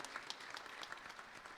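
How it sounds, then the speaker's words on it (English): Audience at a religious night gathering applauds for a man's 75th birthday, a faint, brief patter of scattered clapping from a distance. "Please give him a big round of applause"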